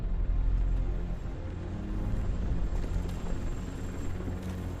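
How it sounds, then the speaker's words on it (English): A TV news helicopter in the video game RoboCop: Rogue City thrums with a low, steady rotor rumble, continuous and moderately loud with no voices. "That's a TV helicopter."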